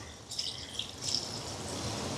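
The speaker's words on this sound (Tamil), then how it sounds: "இப்போ குழம்புக்கு தேவையான அளவுக்கு தண்ணி சேர்க்குறேன்" Water pours steadily into a pot of chicken curry with a continuous splashing gush and a few brighter droplet sounds, close and moderately loud.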